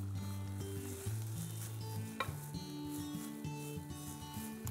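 Beetroot sautés in a pan for a beetroot risotto, giving a steady close sizzle with occasional clinks of stirring beneath a soft background music bed, with no talk.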